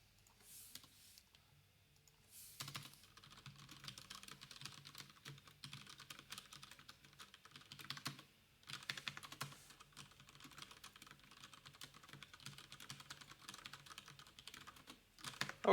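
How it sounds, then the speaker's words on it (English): Typing on a new, supposedly quieter computer keyboard: a steady, fairly faint run of soft key clicks with short pauses, close up and alone with no voices. "I recently got a replacement keyboard, or a new keyboard, and it's supposed to be quieter."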